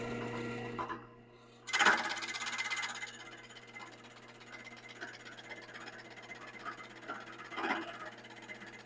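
A cutter grinds along the outside radius edge of a rosette tile, starting with a loud rasping bite after a brief pause, then running as a steady, close mechanical whir with uneven scraping swells.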